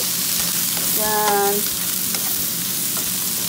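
Carrots for pancit bihon stir-fry in a pan with a steady close sizzle and light stirring scrapes, while a voice speaks briefly over it.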